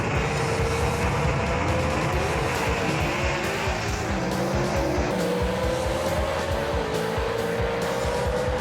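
Gasser drag racing cars, a Mustang against a Renegade, roaring at full throttle in a dense continuous engine blast with rising pitch, loud and close.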